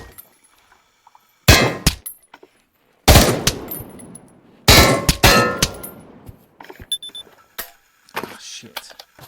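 Carbine gunfire in a VR shooting game comes in several sharp bursts of shots separated by silences, loud and close, followed by scattered lighter clicks and clatter.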